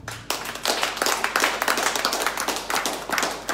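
An audience applauds and claps for a man, many hands clapping in a steady, lively burst that starts abruptly and keeps going, fairly close and loud.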